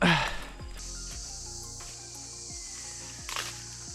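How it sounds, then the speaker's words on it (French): Frogs croak beside still water in a Thai jungle near Khao Sok lake, a steady chorus of repeated low calls with a constant high insect-like drone, heard nearby without talk. "Il y a de l'eau et j'entends des grenouilles."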